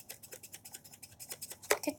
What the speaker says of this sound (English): These scissors probably not going to do anything, but worth a try.